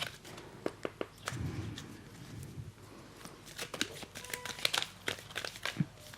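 Tarot cards are drawn and handled during a reading, with soft papery shuffling, sliding and flicking sounds close by, scattered light taps throughout and faint background hiss.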